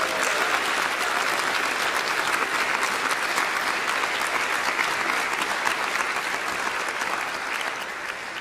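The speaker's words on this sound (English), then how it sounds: "Please give Westminster a round of applause." Audience at a noon organ concert giving a loud, sustained round of applause, dense and even throughout, tapering slightly at the end with no talking over it.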